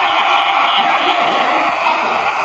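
A recorded sugar glider call plays from a zoo sound button in Hobart, Tasmania: a steady, loud, insect-like buzzing hiss that holds without a break.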